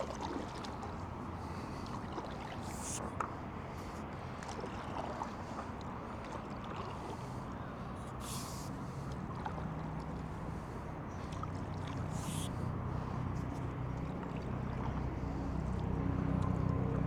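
A kayak or paddle board is paddled on open water, fitted with an inflatable seat. Soft water splashes and gentle swishing continue under light wind, slowly growing a little louder toward the end, with no talking.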